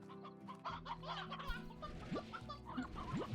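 Rooster clucking in Slime Rancher, a series of short, soft clucks and chatter against a steady game music bed, with a couple of quick rising chirps near the end.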